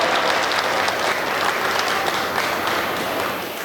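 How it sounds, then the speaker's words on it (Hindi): Loud, sustained applause from a large audience filling a hall for a guru at a comedic gathering, dense continuous clapping that tapers slightly at the end. "एक बार जोरदार तालियां बजाए"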